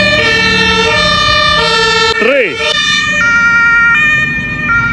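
A fire engine siren wails loud and close, its tones stepping between pitches with a sliding swoop in the middle, over road rumble.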